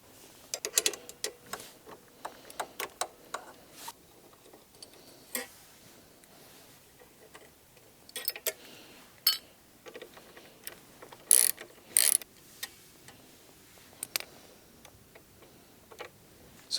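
An 8mm socket ratchet turning the side stand bolt on a Honda CRF300L, runs of quick close clicking pawl ticks in short bursts with pauses between and a few louder knocks, no speech.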